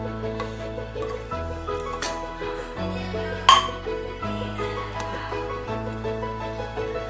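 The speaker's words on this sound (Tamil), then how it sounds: "நல்லா கலக்கிடுவோங்க" Pasta sauce with sautéed vegetables is stirred in a pan, with a spoon clinking and scraping against the metal over a soft sizzle, one sharp clank standing out, while steady background music plays throughout.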